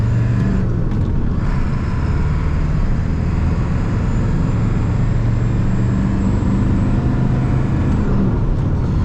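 A 1990s Ford F250 pickup with 124K miles pulls in third gear at light throttle, giving a steady, loud, low engine rumble and drivetrain drone that holds evenly for the whole stretch, with no voices.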